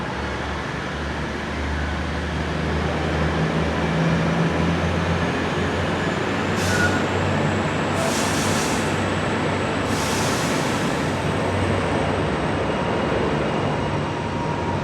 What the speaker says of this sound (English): It's another country train.